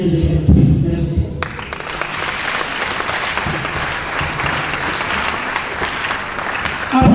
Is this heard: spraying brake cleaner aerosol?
no